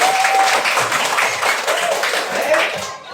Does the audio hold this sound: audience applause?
yes